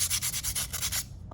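Quick rhythmic strokes of sanding across the sharp edge of an unglazed pottery piece, about nine close, brisk rubs in steady succession, then a brief faint scrape as the motion stops.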